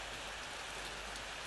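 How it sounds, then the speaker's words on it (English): Steady, even rain hiss fills the outdoor ambience of the horror video game Ao Oni, a soft broadband wash with no talk and no distinct drops. "It is raining outside, obviously, and there's a hole on the floor."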